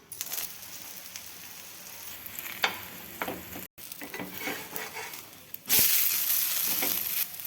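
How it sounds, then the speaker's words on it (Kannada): A thin peanut masala roti cooks on a hot griddle with oil or ghee, giving a steady close sizzle with light scraping. A brief gap is followed by a sudden louder, sustained burst of hissing. "ಈ ರೀತಿ 2 ಸೈಡು ಎಣ್ಣೆ ಅಥವಾ ತುಪ್ಪ ಹಚ್ಚಿ ಕೆಂಪಾಗುವಂಗೆ ಬೇಯಿಸ್ಕೋಬೇಕು"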